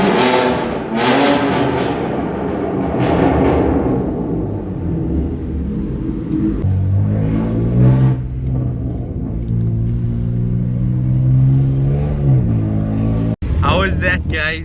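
A BMW M2 Competition engine revs loudly with deep rumbling and rising harmonic sweeps, heard from close by while approaching a tunnel; a second M2 Competition runs just ahead.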